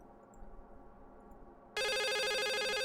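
In The Suicide of Rachel Foster a telephone abruptly starts ringing after a stretch of faint ambience, a loud close warbling electronic trill that holds to the end.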